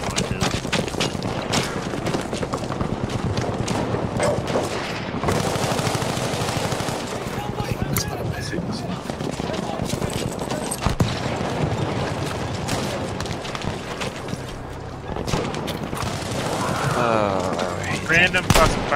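Battlefield V gunfire in rapid automatic bursts and scattered shots, loud and dense throughout, with players talking over the shooting.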